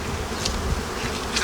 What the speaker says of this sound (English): I'll just shake these bees off